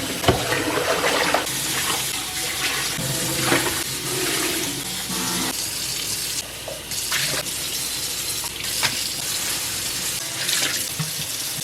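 Tap water runs steadily into a crock pot to soak it, a continuous splashing gush with a few brief clinks, close and alone.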